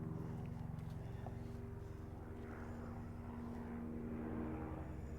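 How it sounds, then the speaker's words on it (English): A sheriff's helicopter passes overhead, a steady low droning rotor and engine rumble with harmonic whine, loud and continuous throughout without talk, heard outdoors at a shooting range. "I think we've got the sheriff's helicopter coming overhead."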